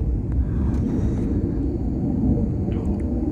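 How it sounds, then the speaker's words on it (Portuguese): Low, steady rumble of airplanes flying overhead, a loud continuous drone filling the whole stretch without talk, heard outdoors near where a DJI Mavic 2 Pro drone is being flown. "que barulho que esses aviões aí de... que esses aviões fazem"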